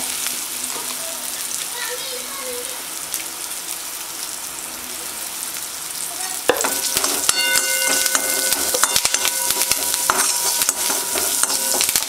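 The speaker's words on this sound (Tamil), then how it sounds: "பூண்டு போட்ட பிறகு கருவேப்பிலை கொஞ்சம் போட்டுக்கோங்க" Garlic and curry leaves fry in a hot pan with loud, crackling sizzle that jumps sharply halfway through as more goes in, with scraping stirs and dense popping after a quieter start.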